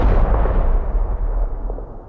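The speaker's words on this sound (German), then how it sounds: "Jetzt war plötzlich eine Explosion." A deep, rumbling explosive blast fills the clip, loud and sustained, with heavy low-end boom rolling out and slowly fading.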